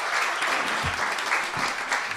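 A studio audience applauds to welcome a political guest onto a talk show. Dense, continuous clapping fills the whole moment at steady volume, with no pause.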